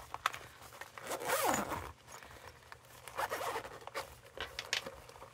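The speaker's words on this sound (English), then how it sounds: "Oh, it's got a zip at the bottom as well." The zip on a pencil case of art supplies is pulled open in two quick, close rasping strokes, followed by soft handling rustles.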